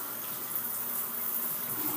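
Carrots and apples being washed under a running kitchen tap before juicing, a steady close rush of water splashing without a break from start to finish.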